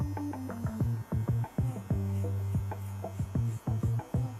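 A Kemei 2796 hair clipper fitted with a number 1 guard comb cuts hair with a steady electric buzz, broken by repeated short snipping bursts as it passes through, close up and with no talking.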